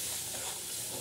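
Black masala spice blend with a little turmeric dry-roasting in a pan for goat mutton curry, giving a short, steady soft sizzle and stir with no voices.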